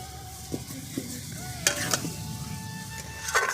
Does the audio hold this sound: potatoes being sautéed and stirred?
yes